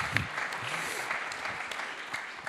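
Steady applause from an audience at a French business conference panel, dense and continuous for the whole stretch, with a brief voice near the start.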